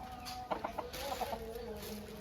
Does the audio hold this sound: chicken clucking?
yes